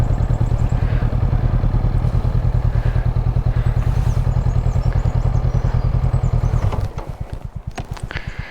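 A motorcycle engine idles steadily and loudly with a rapid low throb on a coastal Karnataka route, then cuts off near the end, leaving sputtering, uneven pulses as it dies down.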